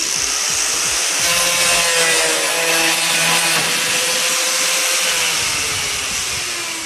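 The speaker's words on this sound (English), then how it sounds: "it's a regular cutoff wheel for cutting metal and stuff, but I found it for this" Cutoff wheel meant for metal grinding steadily through material on a home-built greenhouse window, a loud, sustained whine close up with no breaks.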